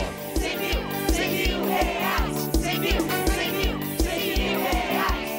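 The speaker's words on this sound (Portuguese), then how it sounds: "Escuta aí a torcida, solta aí, Ricardinho!" Recorded football crowd chanting and cheering, a loud dense roar with rhythmic drum-like pulses running steadily throughout, played back as a recording.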